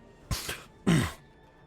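A voice imitates a sniffle with two short, breathy nasal bursts, the second louder and longer, close up with no talking.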